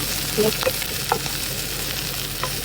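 Onion and garlic fry in a pan with a steady, close sizzle, broken by a few light stirring scrapes.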